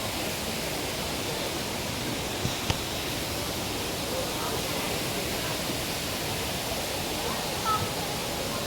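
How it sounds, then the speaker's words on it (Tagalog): Pinlac Falls, a waterfall in Infanta, Quezon, pours with a steady, dense broadband roar that holds even throughout, with a faint brief knock partway through. "Ito po yung falls"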